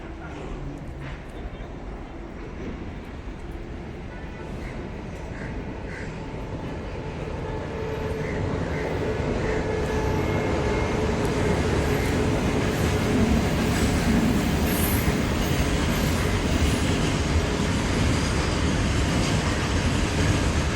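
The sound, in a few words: passing train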